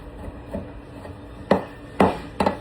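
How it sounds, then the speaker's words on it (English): A knife chops a block of Parmesan cheese on a board, with three distinct, fairly sharp thuds spaced about half a second apart after some faint scraping. "so that I don't grate my fingers into it, we're going to just chop this up"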